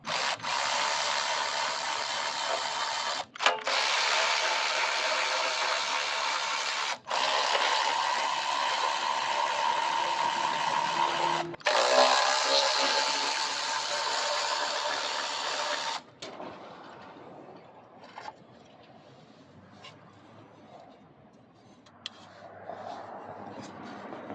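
A small engine's fan shroud is being removed with a power driver, loud continuous whirring runs broken by brief stops, then quieter clicks and handling sounds as the tool falls silent.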